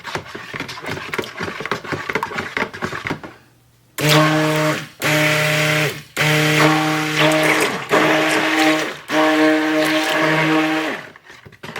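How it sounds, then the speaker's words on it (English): An electric stick blender mixing cold process soap whirs in repeated bursts, a steady motor hum switching on and off about five times after a stretch of rustling noise. "It's just a blender. It's a stick blender."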